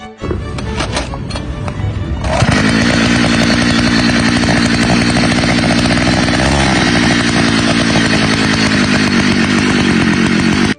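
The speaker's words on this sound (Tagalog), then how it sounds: "sa wakas gumagana pa rin yung makina" A two-stroke engine on a long bike is tested after repair. A few rattling pulls and sputters come first, then it catches and runs at a loud, steady, buzzing high idle up close, with no talking.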